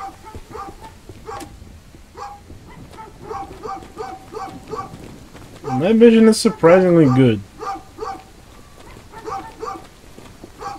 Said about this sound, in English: Those dogs literally sound like they're right next to me.